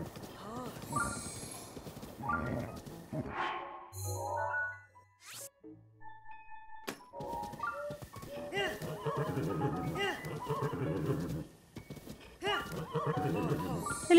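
Zelda: Breath of the Wild game sounds of a horse whinnying and clip-clopping hooves, mixed with voices talking over much of the clip.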